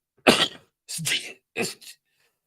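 Person coughing on a football podcast: three quick, harsh bursts close to the microphone, separated by short pauses, with no other sound around them.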